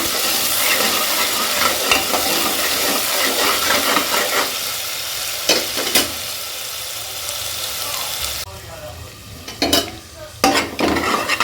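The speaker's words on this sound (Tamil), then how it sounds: "புதினா, பச்சை மிளகா, இஞ்சி, பூண்டு இதை ஆட் பண்ணிவிட்டு நல்லா வதக்கிக்கலாம்." Ground mint, green chilli, ginger and garlic paste frying in a pan while being stirred, a steady close sizzle with scraping stirs and a couple of sharp utensil clinks near the end.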